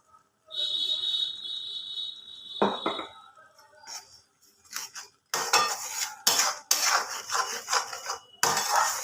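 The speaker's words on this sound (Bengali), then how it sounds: "খুব ভালোভাবে মশলাটা কড়ার মধ্যে নাড়াচাড়া করে নিতে হবে" A spoon scrapes and clinks around a kadai as spices are stirred with yogurt, giving irregular metallic rubbing strokes with brief pauses between bursts.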